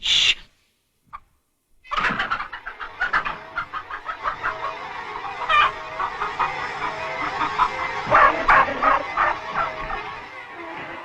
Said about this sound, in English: The chickens seemed to remember old Major saying that their eggs should never be taken from them